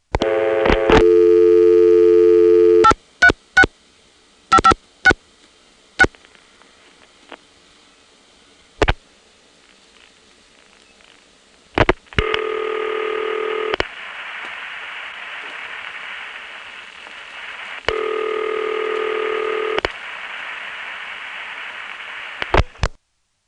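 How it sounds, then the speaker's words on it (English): Old telephone exchange sounds from the Arlington Tandem revertive pulsing: tones, sharp clicks and bursts of pulsing buzz separated by quiet gaps, with a second buzzing tone repeating later. "On this one, you can hear that the Arlington Tandem is revertive pulsing."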